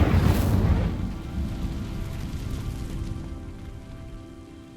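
A fire spell in Hogwarts Legacy bursts against dry vines: a loud, broad whoosh of flame that flares in the first second, then settles into a steady crackling, rumbling burn that slowly fades.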